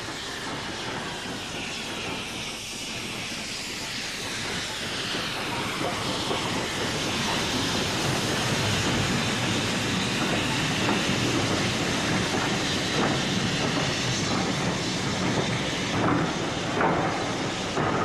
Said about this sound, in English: Here the engine is seen at the top of the severe gradient at 1 in 49 from Grosmont to Goathland.